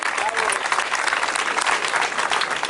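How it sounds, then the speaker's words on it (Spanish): Steady applause from an audience at an Equo political rally in Madrid, dense clapping at an even level throughout with faint voices mixed in. "yo pido un aplauso para ellos"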